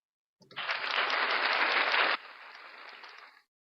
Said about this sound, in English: I want to applaud our episode starting